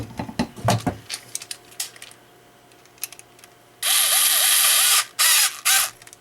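A power drill tightens a part on a homemade ballasted 120VAC current limiter for testing power supplies, with a few ratcheting clicks followed by three loud, close bursts of drill whine separated by short pauses.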